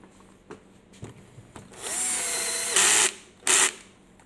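A power drill driving screws into an e-scooter during weatherproofing, with a few short taps, then a long whirring run and two brief high-pitched bursts, close and loud with no talk.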